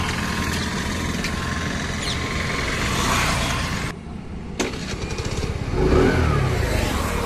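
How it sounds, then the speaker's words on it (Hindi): A TVS Jupiter 110 scooter engine runs loudly up close, dips briefly, then catches again and revs up toward the end. "तो आपने देखा दोस्तों स्कूटर स्टार्ट हो चुका है।"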